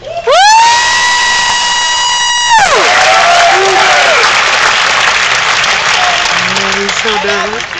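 Loud, sustained applause and cheering from a crowd as a speaker is welcomed to the podium, dense and continuous from start to finish, with a brief tone-like sound near the start.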